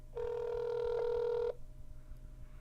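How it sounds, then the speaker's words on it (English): A phone on speakerphone gives one long ring tone lasting over a second, clear and fairly loud, then cuts off into quiet background hum. "It's ringing, ringing,"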